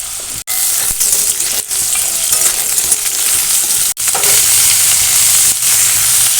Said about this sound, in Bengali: এবার যে কেটে রাখা বাকি সবজিগুলো সেইগুলো তেলের মধ্যে ভেজে নেব।